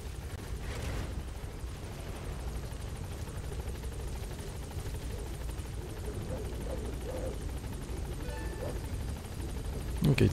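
Support helicopter in the video game Metal Gear Solid V: The Phantom Pain, a steady, fairly loud rotor drone running throughout with low rumble, a brief swell near the start and other game sounds rising at the end.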